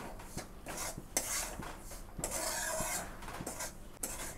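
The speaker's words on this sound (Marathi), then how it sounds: "तर आता छान असा आपल्याला रवा भाजायचा आहे।" Semolina (rava) being roasted and stirred in a pan for karanji, a spoon scraping and clinking against the metal in steady repeated strokes with soft gritty rubbing between, close and moderately quiet, no talk.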